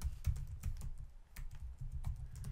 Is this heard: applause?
no